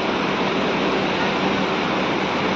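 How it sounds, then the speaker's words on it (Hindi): Fast-flowing Ganges river in Rishikesh, a steady loud roar of rushing water and surging waves filling the whole moment without a break, close and unvarying. "समुद्र के जैसे लहरें उठती हैं वैसे लहरें उठ रही हैं"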